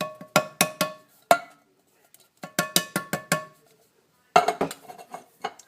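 Diced tomatoes are tipped from a can into a pot of chili, giving bursts of sharp metallic clinks and taps in quick groups, split by short quiet gaps.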